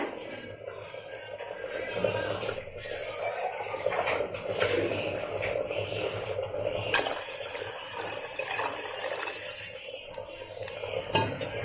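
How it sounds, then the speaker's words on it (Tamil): Water splashes and pours into a metal pot for ginger-garlic rasam, with light clinks of utensils and faint speech in the background. "உங்களுக்கு புளிப்புக்கு ஏற்ற மாதிரி தண்ணி ஊற்றிக்கோங்க"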